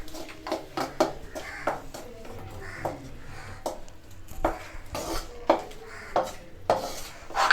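Mango pickle is scraped and spooned from a pan into a vessel at home, with a run of sharp metallic clinks and scrapes of a spoon against the pots, fairly close and irregular, with no talk.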